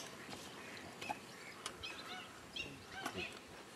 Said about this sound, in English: You turn up the birds.